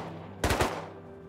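Gunfire from an AK rifle in the Rust video game: a short burst of about three loud, close shots in quick succession, then a fading tail over a faint background hum.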